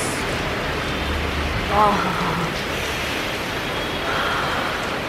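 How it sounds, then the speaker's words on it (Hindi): Heavy monsoon rain pours down as a dense, steady hiss close by, with a voice speaking briefly under the downpour. "I don't know if you can hear me amidst all the rain because it is raining cats and dogs in here"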